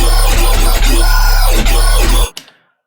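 Sytrus comb growl synth with the EQ high shelf switched off, a harsh, bright, buzzing bass growl pulsing in short rhythmic bursts, loud and up close, ending abruptly after about two seconds.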